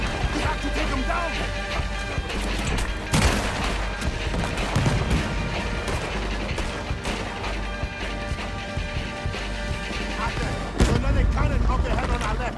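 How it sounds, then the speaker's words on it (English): Gunfire from a shooter in a tower in Red Dead Redemption 2, repeated loud cracks and impacts scattered through a busy, dense mix with shouting voices over the top. "He's shooting! We have to take him down!"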